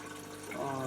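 A white washing machine's drain pump pushes water out, a steady liquid gurgle and pump whir that swells louder toward the end, close and continuous.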